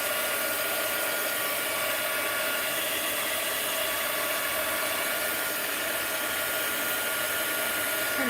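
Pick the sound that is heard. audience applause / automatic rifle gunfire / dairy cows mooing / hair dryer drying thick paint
hair dryer drying thick paint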